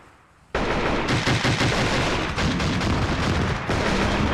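Gunfire erupts in the war video game Armored Brigade with the Future Konflict mod: after a brief quiet moment, dense, loud bursts of rapid automatic fire and heavier booming shots roll on continuously with no talking.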